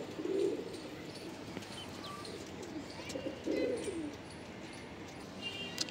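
Pigeons at a Madrasi pigeon sale in Chhatarpur village, Delhi, coo in low throaty bursts, with two clearer coos standing out against steady outdoor background noise and occasional faint chirps.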